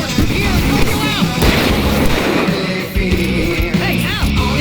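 Gunfire in the video game Alan Wake Remastered, a dense continuous barrage of shots and booms with rumbling explosions and shouting voices throughout, loud and chaotic.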